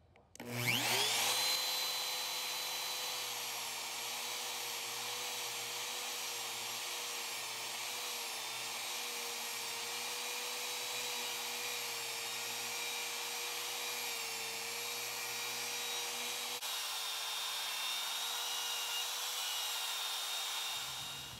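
A bearing-guided router spins up and cuts a wooden guitar body along a template, its steady, loud whine holding nearly unchanged for about twenty seconds with no talking.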